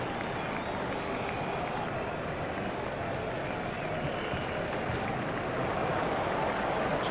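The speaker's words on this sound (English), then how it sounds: "He deserves the applause from the crowd today." Steady crowd applause in the EA Cricket 07 video game, greeting an Australian batsman's fifty in an Ashes scenario; a dense, even wash of clapping and crowd noise runs throughout at constant level with no talk.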